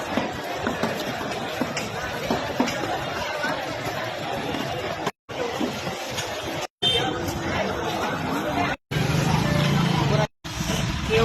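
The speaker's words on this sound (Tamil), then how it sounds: "எவ்வளோ டிராபிக் ஜாமா இருக்கு பாருங்க." Roadside traffic jam outside a fish market, a dense wash of engines, hubbub and crowd chatter close by, broken by brief gaps where the sound cuts out.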